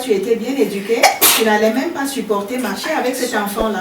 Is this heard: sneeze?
yes